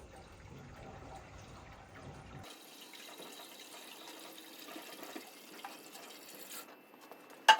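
Cold well water runs steadily into a Vevor 30L ultrasonic cleaner tank, a soft continuous rushing that changes tone partway through and ends with a brief knock.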